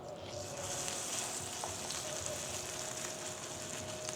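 Embutido sizzles in hot cooking oil in a pan, a steady bright crackle and hiss that carries evenly throughout at close range, with no talking over it.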